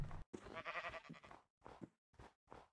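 Sheep in the Minecraft video game bleating in several short separate calls, the first longest, followed by three brief bleats with silent gaps between them, clear and alone.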